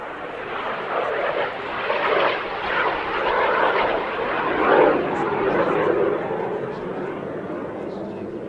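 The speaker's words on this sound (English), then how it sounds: "Here comes Mark Hooton in the Jet Provost T3A, another aircraft that we don't see out on the circuit very often" A Jet Provost T3A jet trainer performing at an airshow, its engine roaring steadily and continuously as it passes, swelling slightly midway, with no break in the sound.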